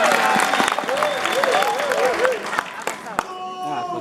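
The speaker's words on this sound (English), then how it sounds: "you must clap for me first" An audience at a festival narrative performance claps steadily in a dense burst of applause, with some tonal sounds over it, thinning out toward the end.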